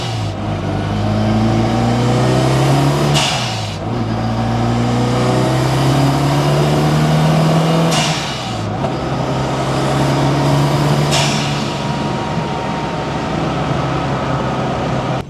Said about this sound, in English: This next portion is going to be under load, heavy boost, and to give you guys an idea of what it's like to drive a real boosted Mini.